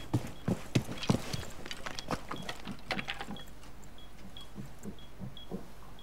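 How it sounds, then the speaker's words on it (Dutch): Enemy footsteps overhead in Rainbow Six Siege, a run of thudding, irregular steps with some heavier impacts early, then lighter steps and small clicks that fade a little toward the end. "Ik hoor ze boven ons lopen."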